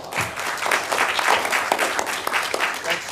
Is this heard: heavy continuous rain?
no